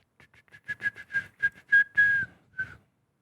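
A person whistles a short, bright tune of about a dozen quick notes, ending on one longer sustained note, close and clear with nothing else around it.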